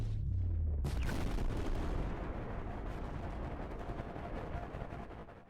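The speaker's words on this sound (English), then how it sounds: "It creates a massive explosion in the distance." A massive distant explosion from the purple technique in VRChat booms out after a short low rumble, then a long crackling roar slowly fades.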